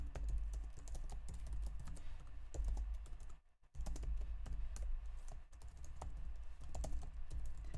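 Rapid, irregular clatter of keys on a computer keyboard, close and continuous with a brief pause midway, no voices.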